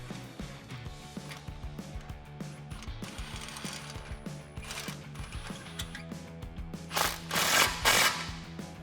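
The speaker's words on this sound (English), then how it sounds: "Now we're going to grab our 13 socket and tighten down this clamp." A 13mm socket ratchet tightens an exhaust clamp on a 2014-2018 Silverado dual exhaust, giving rapid repeated clicking with metallic knocks, steady and close, with louder bursts near the end.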